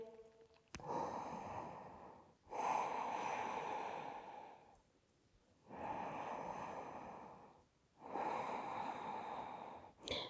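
Slow, deep breaths during a yoga pose, with long airy inhale and exhale swells repeating about four times, steady and close, no talking.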